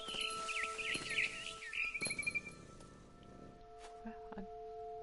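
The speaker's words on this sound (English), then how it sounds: "Then I heard chirping outside my window. It was a barn swallow going back to her nest." Quick high chirps and twittering come from a barn swallow in What Remains of Edith Finch, over soft ambient tones and light pattering. The calls are loudest early, then fall to scattered faint peeps.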